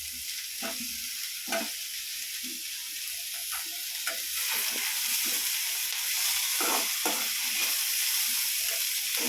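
Tomatoes frying in a hot pan give a continuous hissing sizzle with intermittent soft stirring scrapes, steady and close, growing slightly louder partway through.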